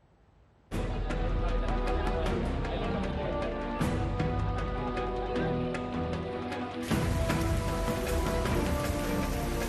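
Torrential monsoon rain pours down in western India with a river in spate, a dense, loud and steady roar that starts abruptly and continues without a break.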